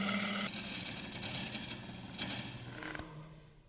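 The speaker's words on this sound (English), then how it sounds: "the lathe will make quick work of turning this round. Dusty work, but quick work." A wood lathe spins a wooden workpiece round, giving a steady, close motor drone layered with broadband cutting hiss that holds fairly loud throughout, with no talking.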